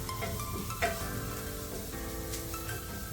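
Chili powder, salt and garam masala being sautéed in a pan: a bright, continuous sizzle with spoon stirring and scraping, and a brief clink early on.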